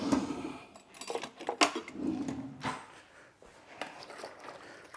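A big spoon mixes partly frozen osso bucco ingredients in a pot, giving soft irregular scrapes, clunks and thuds at close range.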